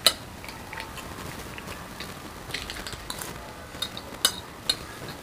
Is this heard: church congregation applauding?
no